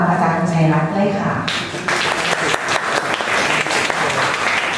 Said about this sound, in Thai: ดิฉันขอเสียงปรบมือต้อนรับอาจารย์ชัยรัตน์เลยค่ะ